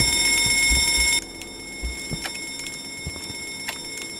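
An alarm rings loudly in the Escape the Backrooms video game with steady, high electronic tones for about a second, then cuts off abruptly, leaving quiet background noise and scattered small clicks.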